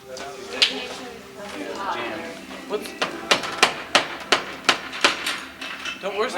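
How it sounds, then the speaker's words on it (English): Hammer blows on plastic near water, a steady run of about a dozen sharp, close knocks in a regular rhythm over the latter half, with people talking beforehand and between strikes. "Let me hammer it back"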